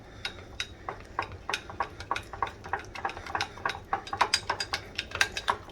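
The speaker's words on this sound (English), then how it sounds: "Take out a spoon. Just whisk it up." A spoon whisks an olive oil mixture for honey Old Bay salmon bites in a bowl, giving quick, irregular clinks and taps against the dish, fairly soft and close, with no talking.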